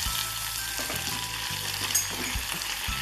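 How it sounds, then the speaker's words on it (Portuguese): Garlic sautéing in melted margarine in a pan, a close, steady crackling sizzle with light stirring clicks and scrapes underneath, no talk. "Derreter a margarina. O alho refogar."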